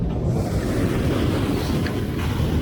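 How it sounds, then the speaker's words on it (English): Massive ocean waves surging against a rocky Northern California fishing shore, a heavy continuous roar with deep rumbling and wind buffeting the microphone. "Oh, those are massive, massive waves."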